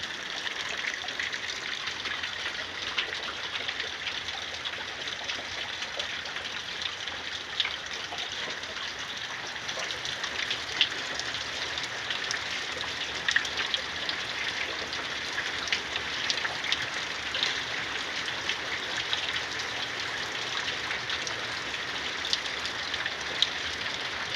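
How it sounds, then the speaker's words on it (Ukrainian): Heavy spring thunderstorm rain with hail pours down steadily for the whole stretch, a dense hiss of drops drumming on surfaces with scattered louder splashes. "Мені здається, вже цей дощ нас затопить."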